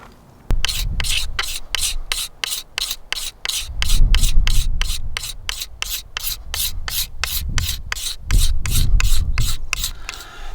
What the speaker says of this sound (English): I've been working on this bow and slowly scraping it.